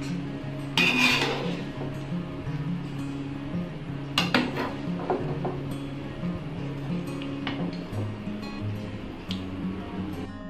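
Fried rice with egg and vegetables being stirred in a pan, soft scraping of a utensil with a few metallic clinks against the pan, quiet and close.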